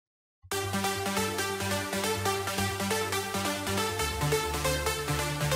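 After a brief silence, a full uplifting trance arrangement made in FL Studio 11 kicks in: bright rhythmic synth plucks, pads and a deep bass line playing loud and steady, with no voices.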